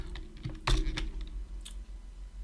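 Fingers tap on a computer keyboard in short, irregular bursts of quiet clicks over a low room hum, with a couple of louder keystrokes standing out.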